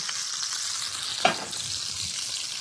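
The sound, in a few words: fat sizzling in cast iron skillet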